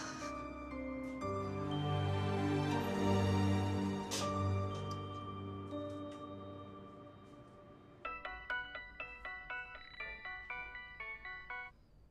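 Telephone ringing as a call is placed, first a sustained melodic ringtone tune, then a series of regular, clear repeated ring tones, loud and close with no talking.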